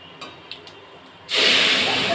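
Masoor lentils hit hot oil already seasoned with panch phoron for a sour raw-mango dal; a quiet pan suddenly erupts into loud, steady broadband sizzling that lasts to the end.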